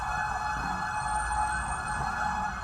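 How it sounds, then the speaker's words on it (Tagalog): Fire engine sirens wail steadily and loudly as trucks arrive one after another at a fourth-alarm house fire on Cabildo Street in Intramuros, Manila, a continuous emergency tone with no pauses. "Sunod-sunod ang dating ng mga fire truck mula sa Karatig Lungsod."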